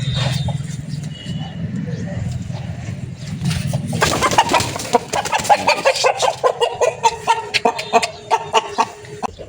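Country chickens, one rooster and four hens, cluck in a rapid, repeated rhythm close by, following a stretch of low background noise and voices.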